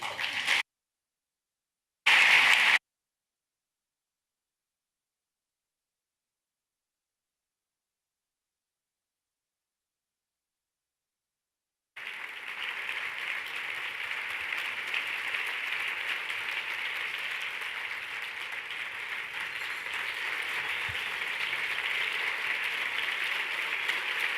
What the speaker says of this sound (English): I'm so glad you gave Dr. Jones that standing ovation.